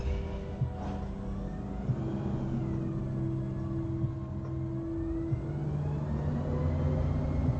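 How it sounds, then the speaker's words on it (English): A garbage truck drives past outside, a steady low engine rumble and whir holding at moderate distance throughout, with faint clanks and a few brief mechanical tones over it, and no talking. "I'm glad we went long so you guys can hear the garbage truck"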